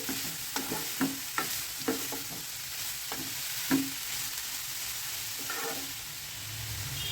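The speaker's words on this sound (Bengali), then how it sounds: "গাজরগুলো দিয়ে আমি একটু নেড়ে চেড়ে দিচ্ছি" Grated carrots for gajar halwa fry in a pan while a spoon stirs them, sharp scraping knocks punctuating a continuous soft sizzle, close and moderately loud.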